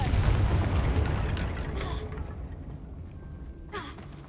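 A Confringo fire-spell blast from a Harry Potter video game goes off as a loud, deep boom, then fades into a long rumbling tail with a faint whoosh near the end.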